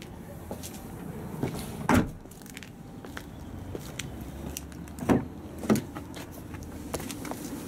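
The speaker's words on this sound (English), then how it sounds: "Rear load cover." The rear load cover of a Vauxhall Zafira Tourer slides and clunks, with a few short thumps and rattles spread over a quiet cabin background.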